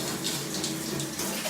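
Water runs steadily from a tap into a pan, a continuous close splashing rush with no pauses.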